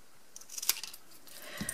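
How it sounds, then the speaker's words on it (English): Baker's twine snipped with scissors, a short crisp cut followed by a few faint clicks and light handling noises, close and quiet with no talking. "I'm actually going to cut a piece of baker's twine"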